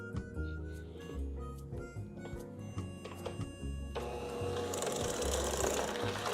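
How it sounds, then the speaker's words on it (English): Electric mixer blending cookie dough ingredients before the flour goes in, a close mechanical whir with a rhythmic beating, growing brighter and steadier partway through. "we're gonna mix it up one more time before we add the flour"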